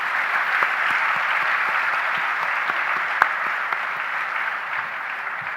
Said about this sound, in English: Let's give our scholars across 25 years, the role models and the rising stars,